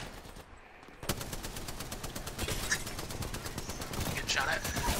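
Automatic gunfire crackles in rapid sustained bursts in the Apex Legends shooter, starting after a brief quieter moment and continuing steadily with occasional voices behind it.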